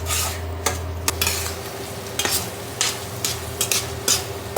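Chicken pieces frying in a pan on a strong-heat stove until their water cooks off, a constant sizzle broken by repeated clacks and scrapes of a spoon against the pan.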